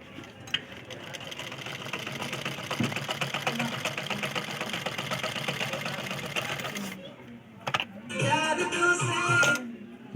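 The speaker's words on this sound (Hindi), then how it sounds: "तो अब मैं आपको ये चला कर दिखाता हूँ।" A domestic sewing machine under home repair stitches at a steady rapid mechanical chatter for several seconds, then stops, followed by brief clunks and a short burst of someone speaking up close.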